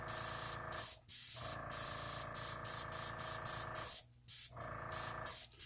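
An airbrush sprays alcohol ink in short, repeated bursts of close, even hiss separated by brief pauses.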